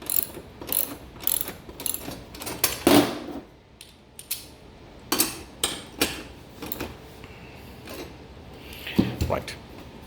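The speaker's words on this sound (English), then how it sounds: "we need a socket set because of the Samsung bracket" A socket wrench ratchets in quick clicking runs while a Samsung bracket is tightened on a tension fabric display frame, the sharp mechanical ticks coming in bursts with brief pauses, close and fairly loud.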